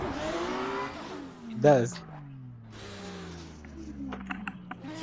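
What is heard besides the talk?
drift car engine revving in Assetto Corsa video game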